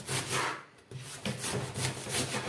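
A knife slicing cabbage leaves thinly for Romanian cabbage soup, giving repeated rasping, scraping strokes at a steady near-constant pace, close and fairly loud with one brief pause, no voice.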